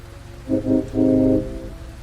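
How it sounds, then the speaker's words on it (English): A bus horn in the game Fortnite honks three times, two short blasts followed by a longer, steady one, loud and droning. "The bus suddenly honked loudly."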